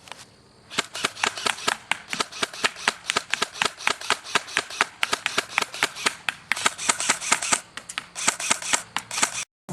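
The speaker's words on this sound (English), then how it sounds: "we're going to be shooting at a target about 75 feet away" Rapid semi-automatic shots from a G&G CM16 Carbine airsoft rifle aimed at a target about 75 feet away, a dense string of sharp snapping cracks fired in quick uneven bursts with no talking.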